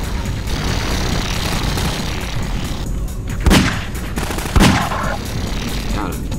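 Gunfire in the Half-Life 2 video game, loud and continuous with two heavier blasts standing out over a dense, rumbling battle bed.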